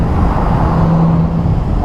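A Porsche sports car races past a motorcycle on an open road, its engine and road noise holding steady and loud over the rush of wind, with no voices.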